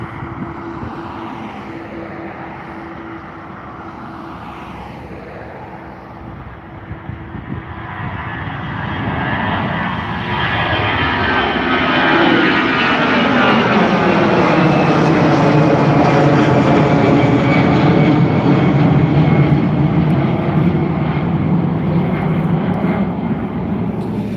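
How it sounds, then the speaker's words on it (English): An Aer Lingus Airbus A320-200 bound for Paris Charles de Gaulle at Dublin Airport, its jet engines swelling from a distant whine into a loud sustained roar as it passes close, with a sweeping shift in pitch and no talk. "Indeed, that was the flight to Paris Charles de Gaulle, the Aer Lingus A320-200."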